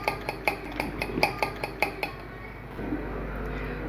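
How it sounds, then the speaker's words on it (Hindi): Omelette batter with green chili and onions is mixed in a bowl, a utensil clinking against the sides in quick, regular strokes close by, then the mixing eases into a softer stir. "इसके साथ ही मैं ऐड करूँगी इसमें अनियंस, और अब मैं इसे दोबारा से मिक्स कर लेती हूँ।"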